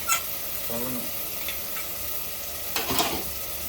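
A ginger-garlic paste ground with whole spices is stirred in a hot cooking pot, sizzling steadily with a few scraping strokes near the start and end.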